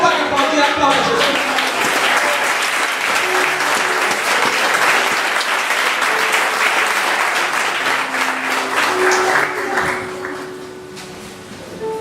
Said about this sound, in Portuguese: você pode aplaudir, aplauda Jesus.